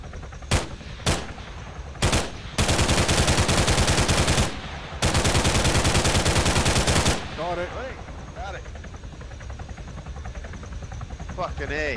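Machine gun fire in a zombie shooter video game: two short bursts, then two long sustained loud volleys, followed by quieter game ambience with faint voices.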